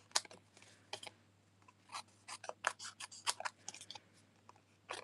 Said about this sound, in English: all the excess pieces we're just going to turn over and cut off